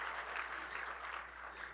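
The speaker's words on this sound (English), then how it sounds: "can you give that anonymous donor a round of applause as well?" Brief burst of audience applause at a school theater production of Little Women, a steady, moderately quiet patter of clapping from the house.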